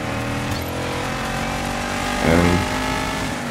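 Volkswagen Touareg engine in the DIRT 5 racing game: a steady, close engine drone with a short rev swell partway through, then settling back to a constant hum.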